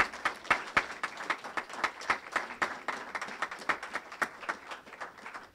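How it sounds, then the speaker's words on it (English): Audience applause for new faculty at a USC Price School event in Sacramento, a steady round of clapping from an indoor crowd with dense overlapping claps throughout and no talk. "I'd like to have one more round of applause for all of our new faculty here at Price"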